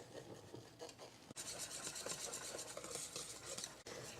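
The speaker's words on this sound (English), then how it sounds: "we just want to combine this well, but you don't have to mix and mix" A whisk scrapes and swishes through pancake batter in a bowl with quick, continuous strokes, quiet and close, with no talking.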